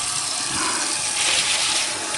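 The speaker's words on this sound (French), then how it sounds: "Je vais ensuite remplir ma casserole d'eau." Tap water runs steadily into a saucepan while making a flan with eggs and caramel, a continuous close hiss and gush of filling water lasting a couple of seconds with no talking.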